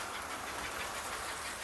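A 1949 American Flyer 4-8-4 Northern model steam locomotive with smoke unit climbs an incline on a trestle at slow speed, giving a steady soft mechanical whir and hiss, close and continuous, with no talking.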